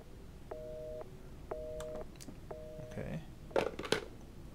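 Telephone in the horror video game Resident Evil 7 giving three evenly spaced busy-signal beeps, followed by handset clicks and rustling handling sounds up close.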